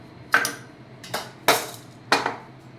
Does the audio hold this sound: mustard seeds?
yes